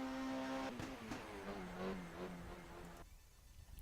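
Racing car engine in the rFactor 2 racing game, Fantasy NGTC touring series, exiting the final corner on a flying qualifying lap: a loud sustained engine note with gear-shift pitch changes, cutting off abruptly near the end.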